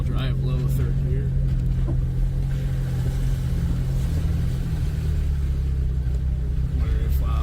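A 2001 Jeep TJ rolls along in four-wheel drive, low third gear, its engine giving a steady, loud low rumble from start to end with no clear rise in revs.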